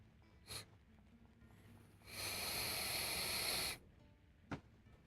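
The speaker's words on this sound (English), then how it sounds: "That was just the pipes." House pipes let out a faint rushing hiss for about a second and a half, bracketed by a couple of soft, brief knocks in an otherwise quiet room.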